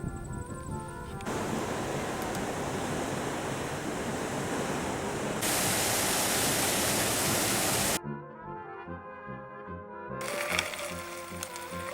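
Outflow water pouring from Lake Ohau gives a broad, steady rushing roar for most of the stretch, then it cuts off abruptly and gives way to other sounds.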